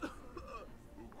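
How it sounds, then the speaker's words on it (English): A single brief, rough cough or throat-clear sounds close by, short and fairly quiet. "Don't cough on me"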